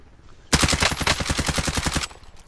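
A rapid burst of automatic gunfire from a Call of Duty Cold War Warzone match rattles loudly for about a second and a half, then stops abruptly.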